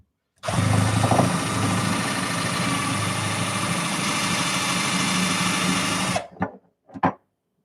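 A power drill bores through a part for an Ender 3 Chimera 3D printer, running loud and steady for about six seconds before stopping, followed by two short bursts of sound.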